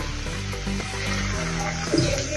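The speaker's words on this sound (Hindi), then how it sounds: "इसमें थोड़ा सा हम पानी डालेंगे," Water is poured into a cooking pan holding onion, tomato, pigeon peas and fenugreek, giving a splashing hiss over the fading sizzle, with a brief louder gush near the end.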